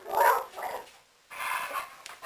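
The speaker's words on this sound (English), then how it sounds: "Dogs are being assholes." Dogs bark in two short indoor bursts, loud and close, with a brief quiet gap between them.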